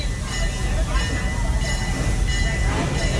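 The Busch Gardens park train rolls along its rails with a steady, loud rumble and clatter over continuous wind and carriage noise, while a guide talks over it.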